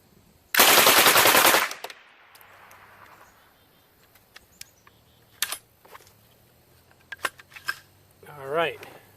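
Rapid fire from a Lage Max 11 gun, a single dense burst of quick shots lasting about a second, loud and close, followed by quiet with scattered clicks and handling noises.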